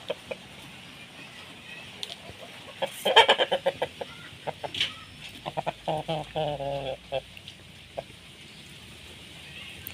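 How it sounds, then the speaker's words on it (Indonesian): A flock of imported fighting-breed chickens clucks and squawks while scrambling over scattered rice on a bright afternoon, with loud, irregular bursts of calls building to a busy cluster near the middle before thinning out. "Ini juga ada ayam ini nih, ayam impor."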